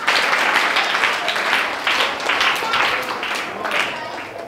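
Students applaud together at a yoga day awareness programme, a dense burst of clapping that carries on for the whole stretch with small swells, loud and close.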